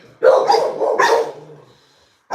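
Several dogs at adoption bark in a few loud, close bursts over about a second and a half, then fall quiet.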